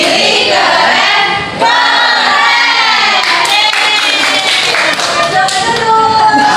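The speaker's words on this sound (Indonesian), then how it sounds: "Kita kasih tepuk keren dulu untuk kelompok 2 dan 3" A classroom of young students chants the rhythmic 'tepuk keren' cheer in unison, voices ringing loud and close with claps and taps mixed in, cheering two student groups during a lesson.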